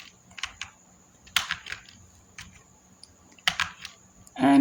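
Computer keyboard typing in a quiet room, a few scattered short clusters of crisp key clicks with pauses between them, close and moderately loud, no talking.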